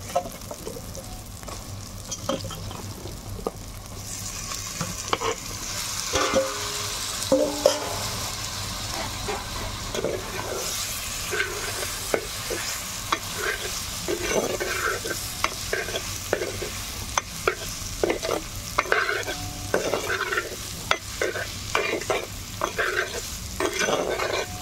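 Potatoes being fried in spicy masala over a wood-fire stove, with steady sizzling and crackling and repeated scraping strokes from stirring, close and continuous throughout with no talking.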